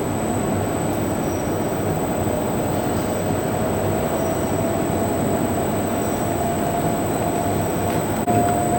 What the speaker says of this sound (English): and then we will start the extruder